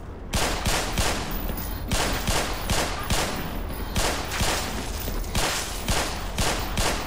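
Rapid gunfire against headcrabs in Black Mesa, loud repeated bursts of shots in quick rhythmic clusters across the whole stretch, close and punchy with no voices.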